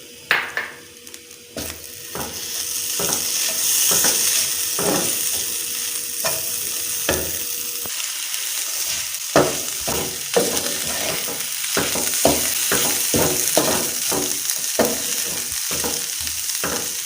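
Qeema mixture stirred and fried in a pan, with a constant loud sizzle under repeated sharp scrapes and knocks of the spoon, and the strokes come faster toward the end.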